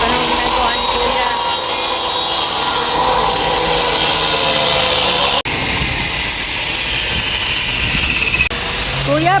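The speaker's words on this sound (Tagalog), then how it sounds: "Yan yung pinakaliha, nililiha." A wood door is sanded in a Filipino woodworking shop, giving a loud, steady, continuous abrasive rasp. A brief break comes midway, then the sanding resumes, with talk faintly underneath.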